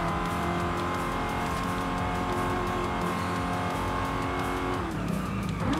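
A car in the Forza Horizon 5 racing game roars continuously at high revs, close and loud, with tire squeal and skidding layered over the steady engine drone.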